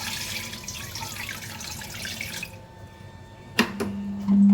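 Water is poured into a wet grinder holding sorghum for dosa batter: a steady splashing stream for a few seconds, then a quieter pause, a sharp clunk and a low mechanical hum starting up.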